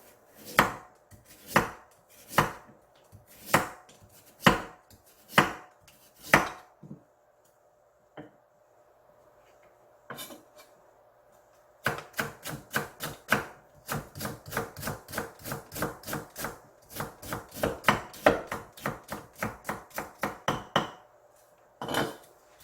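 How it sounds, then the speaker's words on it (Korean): Knife finely julienning carrots on a wooden cutting board: crisp, evenly spaced chops, first slow and separate, then a pause, then a fast steady run of close, loud cuts with no talking. "당근은 곱게 채치세요"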